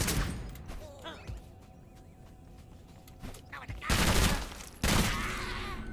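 Sniper gunfire in a video game, with a few sharp shots cutting through quieter game sound, two loud bursts coming close together near the end.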